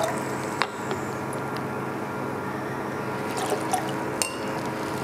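Apple cider vinegar poured into a jar makes a steady close liquid gurgle with a few small clinks of glass, continuous throughout.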